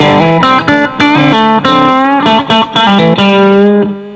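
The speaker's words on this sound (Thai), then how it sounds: "คือแอมมันเป็นแอมแบบเสียงครั้นประมาณนะฮะมันก็เลยทำให้แบบมันมีเสียงแตกในตัวอยู่แล้ว" An electric guitar played through a crunchy, naturally breaking-up amp with effects picks out a quick solo phrase of distinct distorted notes, loud and close, with short gaps between bursts.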